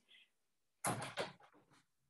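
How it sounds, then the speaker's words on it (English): An indoor door pushed shut, a faint knock early on, then a firm thump followed by a short rattling settle, close by and loud against an otherwise quiet room. "let me just close the door"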